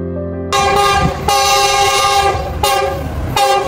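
Inside a moving summer special passenger train, a loud, steady rumble of wheels and carriage fills the space, with a long horn blast ringing through and brief breaks in the tone.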